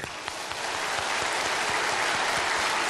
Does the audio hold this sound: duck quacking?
no